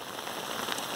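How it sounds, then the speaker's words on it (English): Steady rain falls during a thunderstorm at a riverside camp, a dense, even patter of drops on a surface that continues without a break for the whole second, with no voices. "it immediately started raining and thundering and lightning"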